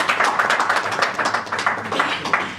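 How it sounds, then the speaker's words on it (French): Audience applause at a Paris press conference, steady scattered clapping from a modest crowd sustained throughout, fairly close, with no talking over it. "Merci, applaudissements s'il vous plaît."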